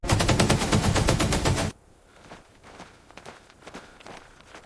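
Rapid automatic gunfire in a police-versus-army action drama, a loud sustained burst of dense shots that cuts off abruptly, followed by quieter scuffling and footstep-like movement.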